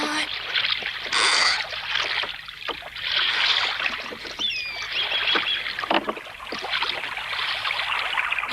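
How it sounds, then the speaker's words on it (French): Cartoon sound of oars dipping and pulling through water as a small rowing boat moves along, with splashes and trickling drips between strokes. "c'est agréable de se déplacer tranquillement en bateau"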